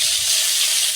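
Ground cumin, coriander and tomato paste hitting hot oil with bay leaves in a pan give a loud, steady, close sizzling hiss that holds evenly throughout.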